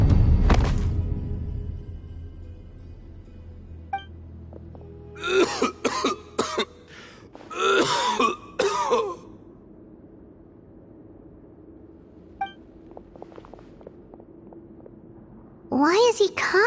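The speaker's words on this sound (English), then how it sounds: "Why is he coughing so much?" A male character in Genshin Impact coughs hard in repeated clustered fits, several harsh bursts in a row and then another near the end. They stand alone over a low game background.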